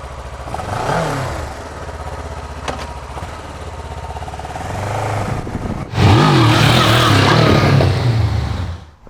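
Kawasaki Versys motorcycle on a test ride, engine droning steadily, then jumping louder as it revs and accelerates hard, close by and alone.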